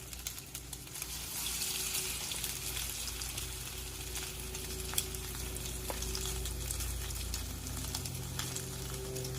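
Food fries in a pan with a steady, dense sizzle and crackle heard close up. It continues throughout with small pops and no talk over it.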